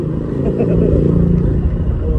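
A motorcycle engine rumbles close by during scooter driving practice on a Honda Click, a steady low drone mixed with voices talking over it.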